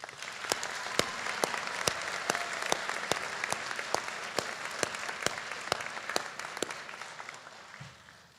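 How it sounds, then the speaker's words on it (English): A high school graduation audience applauds the staff in a steady, fairly distant round of clapping that runs for several seconds with a few sharp individual claps standing out, then fades at the end. "give the staff of Harold Ferguson High School a well-deserved round of applause"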